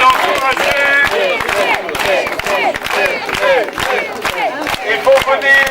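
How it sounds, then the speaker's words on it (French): A crowd at a village Republican election celebration in Blehen claps and cheers loudly for a newly elected woman, with rhythmic clapping, whoops and shouted voices sustained throughout. "On peut l'applaudir, on peut l'encourager."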